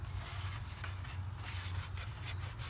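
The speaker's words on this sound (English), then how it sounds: "Give it good clean. You can use a wire brush." A wire brush scrubs a Toyota Camry 2.4 valve cover, a faint steady scratchy rubbing with rapid strokes over a low hum, no talking.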